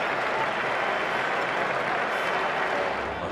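Cricket crowd at the Sydney ground applauding a fallen wicket, steady broad clapping from a large stadium audience, sustained and fairly even for several seconds.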